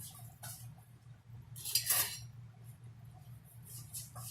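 A spoon is picked up among cutlery and dishes in a home kitchen while cooking Spanish rice, making a few faint, brief clinks and rattles over a low steady hum.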